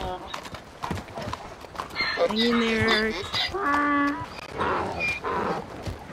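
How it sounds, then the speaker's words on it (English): A donkey brays in loud, drawn-out harmonic calls over clopping hooves in the Western game Red Dead Online, with people talking over and between the brays. "Oh, someone shut that stupid donkey up."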